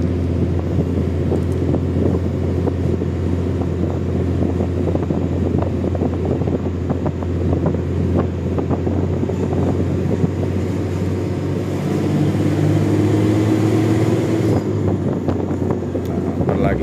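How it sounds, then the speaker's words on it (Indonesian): Strong wind rushes through a truck cabin on a drive through Baluran National Park, a steady buffeting roar mixed with engine drone while someone talks over it. "Anginnya lumayan nih, gede, kencang juga nih anginnya, jadi nggak terlalu panas."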